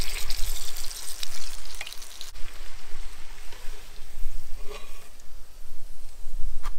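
Hot pepper frying in oil inside a kazan while cooking nutria kebab, a steady loud crackling sizzle with scattered pops, continuous and alone.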